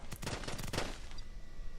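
Rapid bursts of machine-gun fire in Kerbal Space Program with the BD Armory mod, a fast rattling volley of shots that ends abruptly and leaves a fading tail.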